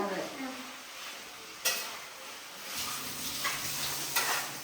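Food frying in a pan and being stirred, a steady sizzle with a few sharper scrapes and clinks of the utensil against the pan.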